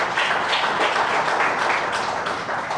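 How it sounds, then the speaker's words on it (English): An audience at a youth dialogue event claps in a steady, dense wash of applause that runs for about three seconds at a moderate distance. "Another round of applause."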